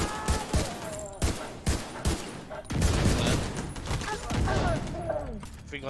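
Semi-automatic rifle firing in The Division 2 co-op gameplay, a series of sharp single shots in a quick uneven rhythm followed by denser overlapping gunfire, with people talking over the action.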